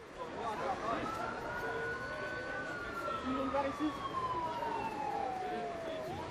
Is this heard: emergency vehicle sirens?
yes